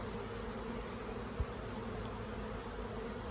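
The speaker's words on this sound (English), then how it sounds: "It's kind of cool standing in the middle of a cloud of bees." A swarming cloud of honey bees drones in a steady, dense buzz that surrounds the listener, fairly quiet but continuous, with a single soft bump partway through.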